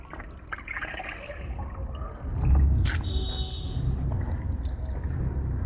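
A cloth is soaked in a bucket of water, with close splashing and trickling that swells into a louder slosh midway and then settles into steady dribbling.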